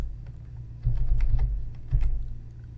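Keys pressed on a computer keyboard during an IBM i terminal editing session, a few quick clustered clicks in two short bursts over a low steady hum.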